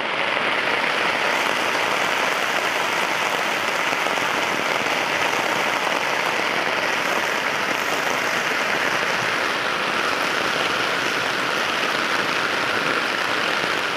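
Heavy rain pours down over flooded village houses and a submerged road, a dense, constant hiss and patter that stays loud and unbroken from start to finish.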